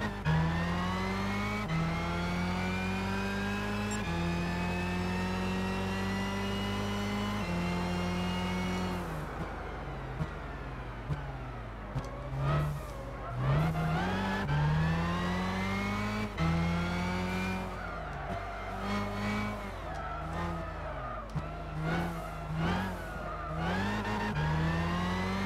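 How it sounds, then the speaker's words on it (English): Race car engine in the Gran Turismo 6 video game revs and climbs steadily through gears, a loud continuous whine with shifts and later tire squeal and surging throttle, no talk over it. "This car's acceleration is insane."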